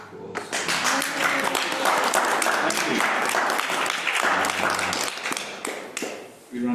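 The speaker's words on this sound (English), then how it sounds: "a round of applause" An audience at a literary reading event breaks into a dense round of applause, loud and sustained for several seconds before fading at the end.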